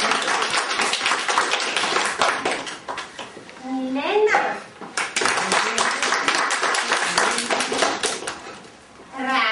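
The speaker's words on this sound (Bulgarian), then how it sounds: "Пляскайте за Никол." An audience claps steadily through a children's show with Pippi Longstocking and friends, while an announcer calls out a child's name over the applause.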